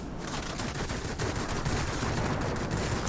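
Aircraft guns on an IL-40 in a video game fire at ground targets, a continuous rattling burst of rapid gunfire heard steadily over engine rumble.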